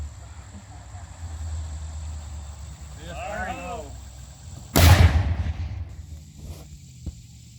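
A single black powder shot goes off outdoors, a sharp, loud boom with a short rumbling tail, preceded by a brief voice and quiet background.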